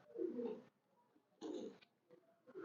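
Coos from a prized show pigeon, a Shahzada breed, come in a few low soft bursts with short pauses between them, close by and alone with no talk over them.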